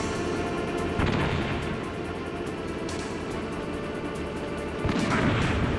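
A grenade goes off in the Metal Gear Solid video game, giving booming blasts over a constant loud, rumbling game soundscape. The strongest bursts come early and again near the end.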